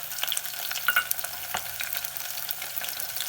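Potatoes and coarsely chopped onions fry in a pan, a soft steady sizzle with a few sharp scrapes and taps of a stirring spoon.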